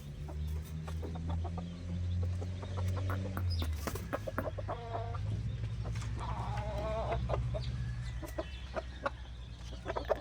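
Chickens cluck in an outdoor setting, with repeated close clucks and squawks over a steady low background hum; the sound is moderately loud and continuous.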